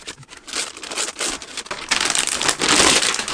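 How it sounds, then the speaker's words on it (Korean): Plastic wrap being peeled off a Logitech G613 wireless mechanical keyboard during unboxing, a close, uneven crinkling and crackling that grows louder toward the end, with no talking. "비닐을 까면"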